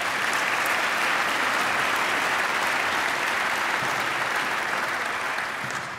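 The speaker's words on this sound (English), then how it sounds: "Let's give them a round of applause." Large audience at a downtown civic event applauding city council members and officials, a loud, continuous, even roar of clapping that holds steady and eases slightly at the end.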